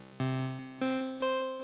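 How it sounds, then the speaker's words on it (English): Three bright, buzzy NES-style pulse-wave synth notes in a short chiptune phrase, each sustained and slowly decaying, with no voices. "all this is just a pulse wave"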